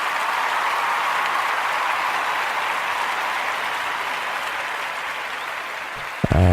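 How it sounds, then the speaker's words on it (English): A crowd applause sound effect plays as a continuous, even wash of clapping that holds steady for several seconds, ending in a brief bump of other sound. "I set applause here."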